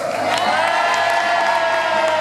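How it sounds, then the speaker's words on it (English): A crowd at a police open day cheers and whoops loudly, a sustained roar of voices with shouts rising over it, packed and close throughout. "Big cheer for PC Scott Byrne."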